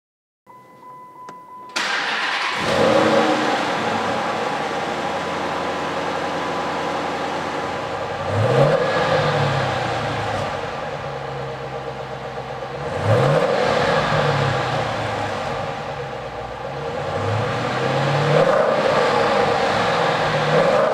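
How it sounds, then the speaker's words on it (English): A powerful Hemi V8 engine in a 2011 Dodge Challenger cranks and starts, then idles with a deep, throaty rumble, repeatedly revving in loud barking bursts from the exhaust. "The engine runs like a new Challenger, with a healthy bark from the exhaust and a throaty performance sound."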